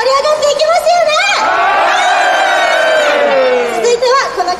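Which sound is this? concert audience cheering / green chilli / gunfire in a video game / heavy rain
concert audience cheering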